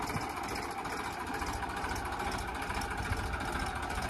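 A steady, low tractor engine rumble idles continuously at moderate distance, with no talking over it.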